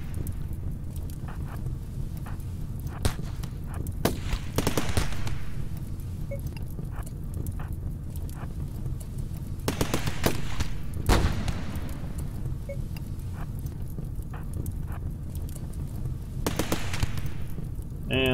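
Colonists open fire in the video game Rimworld, with short clustered bursts of sharp shots in three separate volleys over a steady low background rumble. No one speaks.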